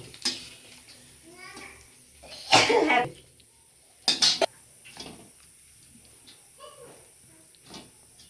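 A person coughs hard in a home kitchen from the fumes of chili tempering, with two loud harsh bursts amid quieter throat clearing and faint utensil clatter.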